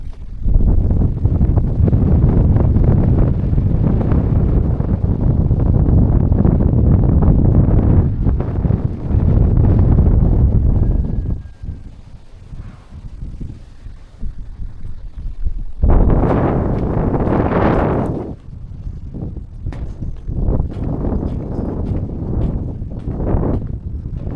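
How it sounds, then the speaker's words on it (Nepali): Cold wind buffets the microphone at a hilltop temple in Bansbhari, Nepal, a loud, continuous low rumble that drops briefly, then returns in strong gusts. "निकै चिसो हावा आइरहेको छ राम्रो जस्तो"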